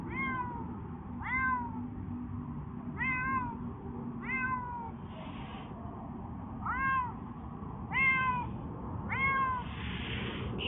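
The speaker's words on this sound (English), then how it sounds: "It's a different cat." A cat meows repeatedly, about eight short rising-falling calls spaced roughly a second or more apart, close and clear over a steady low background hum, with no talking.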